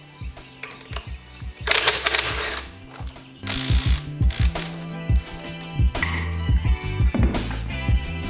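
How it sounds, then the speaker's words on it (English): A Makita cordless impact wrench spins lug nuts off a Ford F450 wheel in repeated short bursts of loud mechanical ratcheting and whirring, close by, with brief pauses between nuts. "now I'm stuck using my little Makita wrench thing here"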